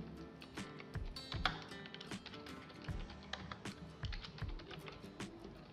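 Rapid typing on a computer keyboard while filling in a web form, with irregular bursts of close, crisp key clicks and no speech.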